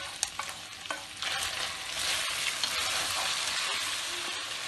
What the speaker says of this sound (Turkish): Domatesli sosumu yemeğimin içerisine döküyorum.